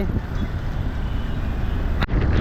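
Yamaha MT15 motorcycle being ridden, a steady broadband engine and road rumble running close and loud throughout, with a brief dip near the end before the drone resumes.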